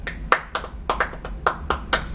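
Hands clap along to a fast beat, about a dozen sharp, close claps in an uneven quick rhythm, with no talking.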